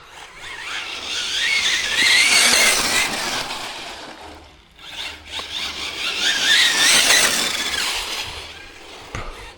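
Hobao TT2.0 Pro RC car makes two long skidding runs, each a loud rising and falling squeal of tyres and motor, separated by a short quiet gap.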